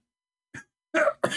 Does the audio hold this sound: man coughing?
yes